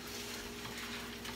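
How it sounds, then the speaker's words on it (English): Fried eggs cooking in a pan for croque madame sandwiches, a faint, steady sizzle of hot fat with no talking. "Nick is finishing up on the fried eggs"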